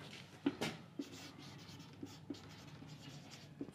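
During a spoken English lesson, a marker or chalk writes on a board with faint, close scratchy strokes and occasional taps in a quiet room.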